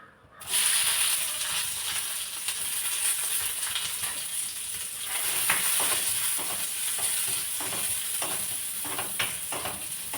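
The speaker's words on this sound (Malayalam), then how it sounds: "നട്ട്സും കൂടെ വറുത്തെടുക്കാം." Nuts frying in ghee in a pan while a Thalassery dum biryani is being made, a steady, close sizzle with faint stirring scrapes that runs without a break after a brief quiet start.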